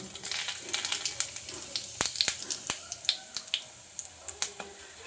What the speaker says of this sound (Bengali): ওই তেলের মধ্যে দিয়ে দেবো লং এলাচ দারচিনি তেজপাতা শুকনো লঙ্কা আর সামান্য পরিমাণে গোটা জিরে